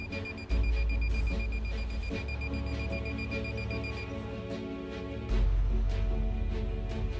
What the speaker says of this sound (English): making an intermittent beep